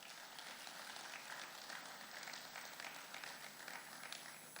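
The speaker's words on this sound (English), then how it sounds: "I think we should clap for them." An audience applauds steadily at a public event, a soft, distant wash of clapping that holds throughout.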